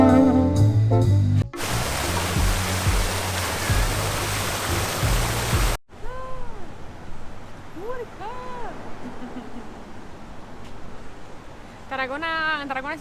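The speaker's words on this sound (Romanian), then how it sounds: "A început să plouă." Rain begins falling in Tarragona, a dense, steady hiss that swells for several seconds and then drops away, followed by voices talking over quieter background noise.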